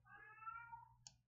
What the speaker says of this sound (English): I don't know if you guys can hear my cats going crazy in the background